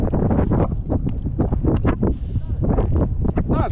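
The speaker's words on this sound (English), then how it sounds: "The wind pick up," Gusty wind buffets the microphone on a boat during fall mackerel and striper fishing, a loud continuous rumble rising and falling, with muffled voices mixed in.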